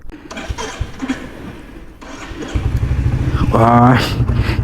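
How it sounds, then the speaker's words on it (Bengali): A Royal Enfield Hunter 350 motorcycle engine starts partway through, then settles into a loud, steady, throbbing idle, with a rising rev near the end, close by. "স্টার্ট হয়ে গেছে বাইক"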